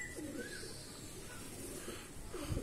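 An Andhra pigeon gives soft cooing calls, a few low murmuring coos at a quiet level against faint background noise.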